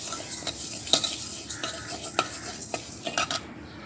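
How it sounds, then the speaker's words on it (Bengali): Black gram lentils are stirred as they dry-fry in a hot wok, with a spoon scraping and clinking against the metal in irregular strokes over a faint, steady sizzle, close and alone without any voices. "তো ডালগুলো আমি এইভাবে ভেজে নিব।"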